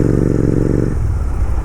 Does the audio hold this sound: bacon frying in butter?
no